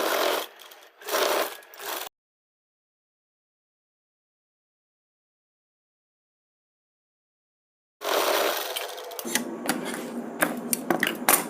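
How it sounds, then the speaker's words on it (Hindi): A sewing machine stitches padded blouse fabric in two short bursts, then goes silent for a long gap. A longer, louder run of stitching follows, with clicks and rattles. "अब हम मेन फैब्रिक पे कपड़े को सिलेंगे।"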